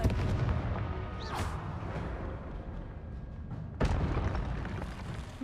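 Spell blasts in a Hogwarts Legacy fight: two sharp explosive bursts about 2.5 seconds apart, loud and close, over continuous rumbling game ambience with no talking.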